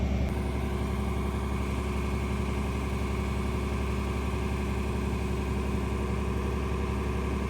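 A steady, rumbling tractor engine idles continuously at close range in the rain, a low droning hum with a constant vibration and no voices.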